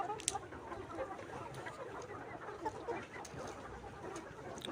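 Layer hens on a poultry farm give soft, scattered clucks over a constant low murmur of background noise, faint and fairly distant, with no talking.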